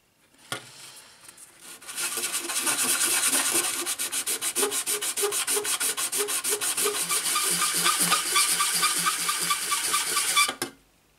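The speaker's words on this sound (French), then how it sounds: "je sens que ça ponce plus, voilà, ici aux extrémités que là" Hand sanding of a Liberty Walk LB Ferrari 458 scale model car body: a steady, close rasping scrub in fast back-and-forth strokes that runs for about nine seconds, with no talking.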